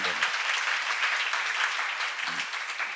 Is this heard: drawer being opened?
no